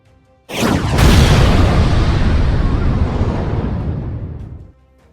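A rocket blast in a Warhammer 40k Kill Team battle between Evil Sunz Kommandos and Veteran Guardsmen detonates as a loud, sudden explosion sound effect with a sharp onset, then a long roaring rumble that fades after about four seconds; no speech.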